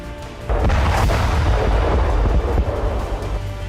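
A Ukrainian strike hits a Russian Zoopark-2 radar system in Donetsk, a sudden loud, deep boom that rolls on as a rumbling blast before fading over a few seconds.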